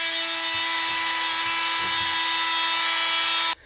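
A steady, high-pitched buzzing whine from a Dremel Multimax oscillating multi-tool runs continuously while it cuts out part of a camper cabinet, then stops abruptly.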